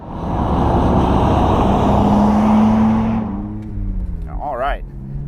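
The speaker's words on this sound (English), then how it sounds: "Let's start this thing up, get it outside" BMW Z4 convertible engine running on a cold winter day, a loud steady rumble with a rising tonal whine that fades toward the end as a voice begins speaking.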